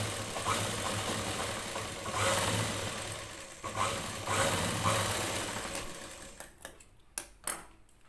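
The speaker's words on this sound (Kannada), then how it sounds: "ಇದನ್ನು ಈ ಥರ ತಿರುಗಿಸಿದ ಮೇಲೆ ಮತ್ತೆ ಮೇಲೊಂದು ಸ್ಟಿಚ್ ಮಾಡ್ಕೊಳ್ಬೇಕು" A sewing machine stitching a plain blouse hums in a steady run of fast stitches, then breaks into short spaced bursts and clicks as it stops and starts, close and moderately quiet.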